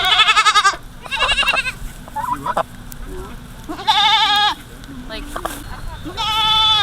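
Goats bleat repeatedly on a homestead, including a buck, with loud, wavering cries in several separate bursts. Voices talk briefly between the calls.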